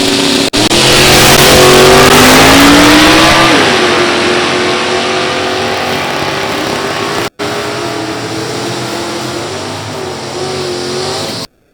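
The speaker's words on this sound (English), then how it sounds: "Morris Racing, small block, 66 Nova, a Super Stock L automatic entry." Drag racing at a strip, including a small-block 1966 Nova Super Stock automatic entry: a loud, close engine roar climbs steadily through the gears as the car accelerates away, sustained for most of the clip with a brief break.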